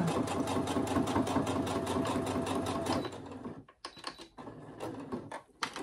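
A domestic sewing machine stitching through thick layered fabric with a lengthened stitch, running at a steady fast rhythmic clatter for about three seconds, then stopping, followed by quieter handling sounds.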